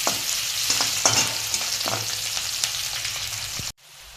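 One large chopped onion frying with garlic in a hot pan, giving a loud steady sizzle with a few stirring scrapes, ending abruptly into quiet.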